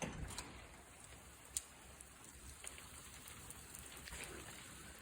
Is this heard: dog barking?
no